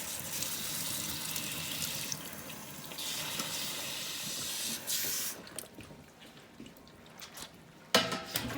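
Water runs and sprays through a milking equipment hose being rinsed out, a loud hiss that drops away midway into quieter trickling and splashing before a brief burst of flow near the end.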